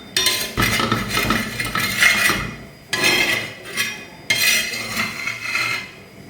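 An ottada is lifted from a pathiri pan with metal utensils, making three bursts of scraping, clinking metal on metal separated by short pauses. The sounds are close and fairly loud.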